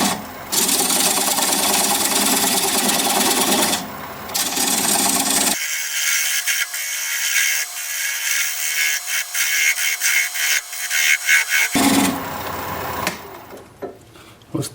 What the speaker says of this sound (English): I'm going to use a 3/8 inch bowl gouge and commence to removing that tenon